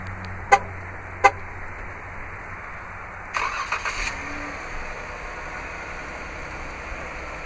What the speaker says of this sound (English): to operate the remote start is easy. Just double press the remote start button on the key fob.